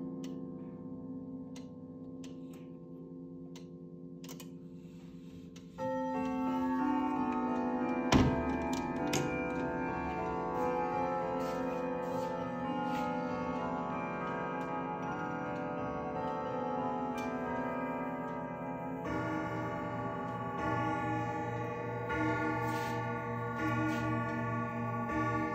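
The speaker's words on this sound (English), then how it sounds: "And one more time so we can hear it chime on the hour." A 2002 Ridgeway grandfather clock with a rotating moon dial ticks steadily, then rings out its hourly chime in loud, sustained bell tones that layer over the ticking without any talk.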